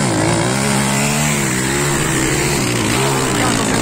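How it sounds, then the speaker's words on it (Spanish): A loud, high-revving motocross motorcycle engine drones steadily during a race in Yurimaguas, Peru, with a buzzing, strained tone, the bike leaking oil from its exhaust, close and continuous throughout. "Está sonando la moto de Prieto."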